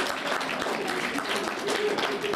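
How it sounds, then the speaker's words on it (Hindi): Crowd applause for a player at a chess championship, a steady wash of clapping held for the whole span, with a voice speaking over it. "तो जोरदार तालियां इस प्रतिभा"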